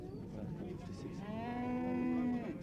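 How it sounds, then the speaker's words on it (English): Cattle at an Irish fair, a long, low moo rising over the murmur of the crowd, close and fairly clear, with background chatter throughout. "But the main money spinners at the fair are the cattle."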